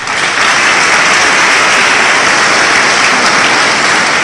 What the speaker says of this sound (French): Je voudrais qu'on l'applaudisse par derrière.